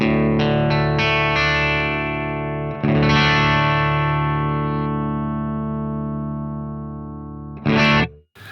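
Distorted electric guitar running through a Friedman IR-X with an EVL cab and plexi amp voicing, a few picked notes then a sustained ringing chord decaying slowly, ending with a short loud strum, no talk.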